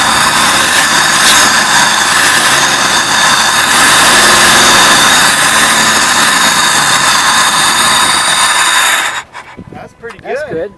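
A vehicle engine with a fuel leak at the rear revs loudly and steadily for about nine seconds, then drops off as voices talk over the quieter tail.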